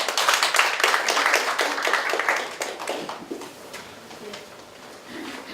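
An audience claps after a speech at a school admissions briefing, a dense burst of many hands that is loud at first and then thins and fades over several seconds.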